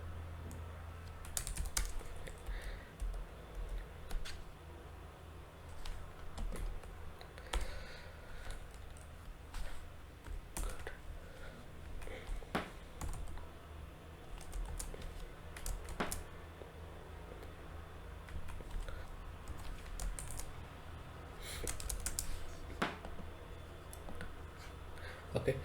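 Quiet, irregular clicking of keys on a computer keyboard, with short bursts and pauses, close by and fairly faint, with no voices; the keyboard is lagging slowly.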